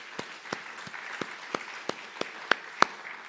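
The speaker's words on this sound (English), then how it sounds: "So a nice round of applause." Sparse, slow clapping from a small audience at a conference keynote on military innovation, with a handful of distinct claps spaced about a third of a second apart.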